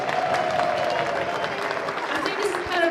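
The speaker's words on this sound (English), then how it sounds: "It's going to be a big round of applause." Crowd applause welcoming a primary school group at a music celebration event, fairly steady clapping with voices and a faint tonal sound mixed in underneath.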